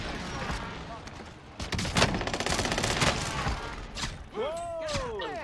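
Gunfire in the Call of Duty Warzone video game, a dense burst of rapid shots running through the middle of the clip, with game effects and a rising whistle-like tone near the end, loud and close.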